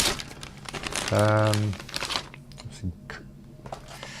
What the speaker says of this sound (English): Plastic, big plastic bag.